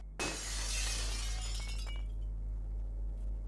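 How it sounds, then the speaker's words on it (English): A glass window shatters in the video game Deus Ex: one sharp crash, then a bright spray of tinkling shards that fades over about two seconds, over a low steady hum. "Stand back, I don't want you to get glass in your eye."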